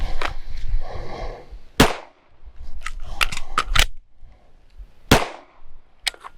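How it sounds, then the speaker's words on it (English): Pistol shots on an outdoor range during a dry-fire-to-live drill: a sharp gunshot, a pause filled with quiet metallic reload clicks, then a second loud shot, with faint handling clatter afterward. "Draw, fire 1, reload, fire 1."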